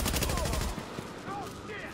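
Gunfire in the video game Landmark, a dense, continuous crackle of rapid shots filling the whole moment, loud and close, with a voice faintly mixed in.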